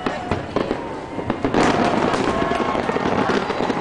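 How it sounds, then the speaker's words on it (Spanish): New Year's Eve fireworks burst over Sydney Harbour near the bridge in a dense, continuous barrage of crackling pops and booms, fairly loud, with a few scattered earlier bangs before the display swells into a steady roar. "también están tirando fuegos"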